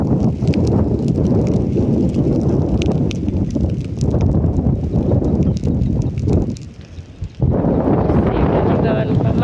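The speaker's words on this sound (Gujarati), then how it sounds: "પવન બહુ છે" Strong wind sweeps across a farm field in Gujarat, rumbling and buffeting the microphone almost continuously, with a short lull near the end before the gusts return.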